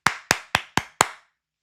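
Five sharp hand claps in an even rhythm, each a crisp close-up crack with a short decay, followed by silence.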